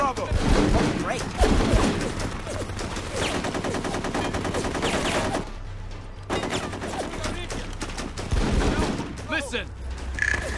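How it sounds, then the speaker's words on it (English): Squad combat gunfire in the military video game Full Spectrum Warrior, with rattling machine-gun bursts and shots layered over game sound, while soldier voices talk through the action. "we're under fire"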